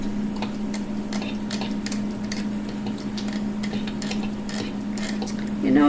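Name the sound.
stirring lotion in a hot container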